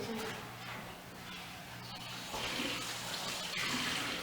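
Cold water runs steadily into a container in small measured amounts. The trickling and splashing is close and continuous throughout, with no talking.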